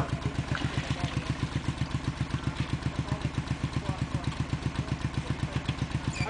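An ATV runs with a steady, rhythmic idle chug while its winch pulls, a close, even engine pulse with a rattly clatter throughout.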